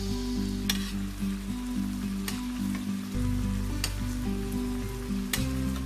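Salmon cooks in a sizzling pan of sauce, with a steady frying hiss and a few sharp crackles and pops throughout, over a low hum.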